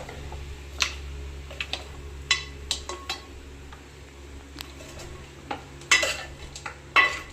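Masala powder being stirred into a country chicken fry in a pan, heard as irregular scraping and clinking strokes over a low steady hum, fairly faint and with no talk.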